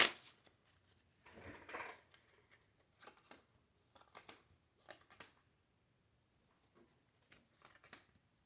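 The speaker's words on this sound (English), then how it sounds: "Keep shuffling, get this set up." A deck of cards being shuffled, soft and fairly close, in several short riffling bursts separated by pauses.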